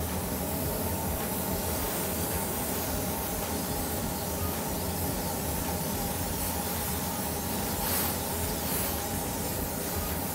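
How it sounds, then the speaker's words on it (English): An airbrush sprays Pro-Line paint onto an RC car body, a steady loud hiss of air and paint running unbroken from start to finish. "Proline paint spray is amazing."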